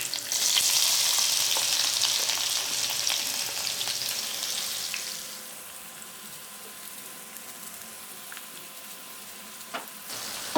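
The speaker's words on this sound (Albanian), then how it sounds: "Në fillim do skuqim qepën." Chopped onion sizzles loudly in olive oil in a pan on the stove, crackling steadily before dropping to a quieter, gentler fry, with a few sharp clicks near the end.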